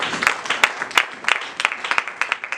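A church congregation applauding, with a short run of rhythmic, fairly loud handclaps in a steady beat, close and without talk.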